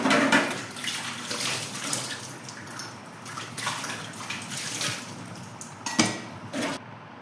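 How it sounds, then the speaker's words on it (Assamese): Bell-metal plates and dishes being washed under running water: a steady splashing stream with scattered clatters and knocks of the metal ware, fairly close, with no talking. "সেইকাৰণে কাঁহী বাচনকেইখন দুখন ধুই পেলাইছোঁ"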